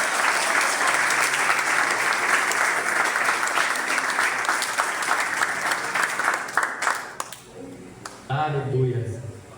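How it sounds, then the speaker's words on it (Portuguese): A church congregation applauds loudly and continuously for about seven seconds, the dense clapping fading out before a preacher's voice carries on alone. "Aplauda o Senhor por essa palavra."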